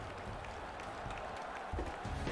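Arena crowd in the gladiator combat game We Who Are About To Die, a dense, steady roar of cheering and clapping held at a constant level, swelling slightly near the end.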